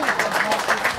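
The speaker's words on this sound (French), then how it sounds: "Merci Muriel, qu'on applaudit encore une fois." Audience at a comedy festival applauding, a brief dense patter of clapping, fairly close and steady throughout.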